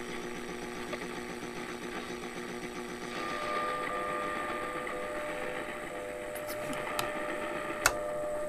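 Faint WWV time signal picked up on 10 MHz shortwave radio, buried in steady hiss and static, with a sustained tone and a few sharp clicks near the end.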